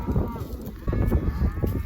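Cows low and moo as a herd is walked home across a grazed field, loud, close calls over a rumbling, wind-buffeted background with no speech.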